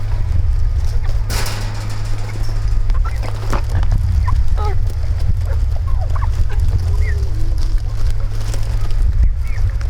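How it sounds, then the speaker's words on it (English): Fowl at a farm zoo, including Brahma chickens and turkeys, call in scattered clucks and honking squawks over a constant low mechanical hum, several birds close by with occasional sharper cries. "Here we've got Brahma chickens and turkeys."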